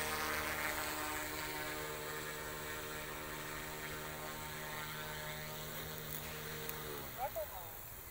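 Small OMPHOBBY M2 scale RC helicopter coming in to land, a steady buzzing whine of the motor and rotor with strong tonal harmonics that drop in pitch as it touches down, nearby and loud.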